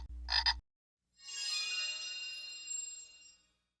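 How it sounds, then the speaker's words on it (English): A short chime is followed by a single drawn-out frog croak, heard as a sound effect for a frog sitting on a water lily in a goldfish pool, clear and isolated with no speech. "On one of the water lilies sat a beautiful frog."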